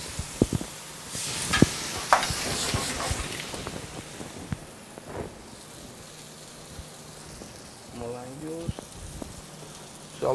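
Garlic sizzles and crackles in a pan in a pizza and brew restaurant kitchen, a soft steady fry beneath utensil clinks and stirring, while a voice speaks over it.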